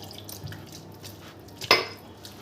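Water poured into a cooking mixture in a home kitchen, heard as one short splashing pour midway through the clip over quiet background hiss, with no talking.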